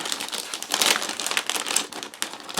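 Close, steady crinkling of a plastic anti-static bag holding an Asus Prime B560-A motherboard, crackling continuously for a couple of seconds with no talking.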